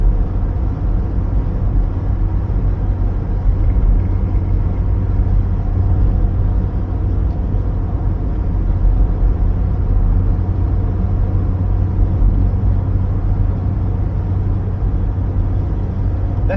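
A car cruises along the A77 road between Girvan and Ayr, with a constant low engine and road drone and steady wind and tyre noise, unchanging throughout with no speech.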